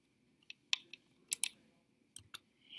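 Typing on a computer keyboard, a handful of sparse separate key clicks in small bunches with quiet gaps between, close and fairly soft.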